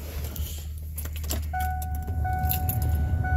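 A 1999 Ford F150 pickup truck starting in cold weather: keys jangle, then the engine turns over and settles into a steady low rumble, with a thin warning chime tone running over it near the end.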